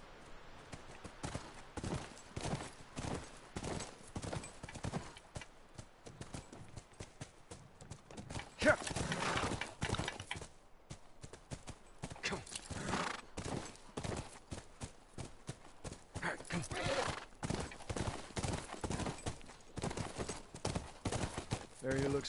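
Horse hooves clop steadily in The Last of Us Remastered as a horse rides along, with an occasional faint whinny; people talk over the hoofbeats throughout, and the overall level stays quiet.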